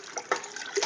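A large batch of liquid Jello being stirred, with continuous wet sloshing and swishing and a few louder splashy strokes, close by and without talk.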